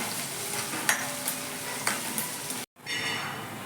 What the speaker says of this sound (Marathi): कढीपत्ता, कांदा चांगला छान सोनेरी होईपर्यंत परतायचा